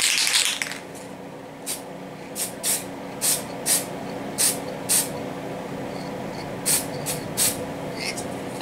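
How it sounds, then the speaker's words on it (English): Decal bonder sprayed onto an N scale model truck in short bursts of aerosol hiss, about ten quick puffs spaced roughly half a second apart, close and fairly loud over a quiet room. "Go ahead and give that a quick spray."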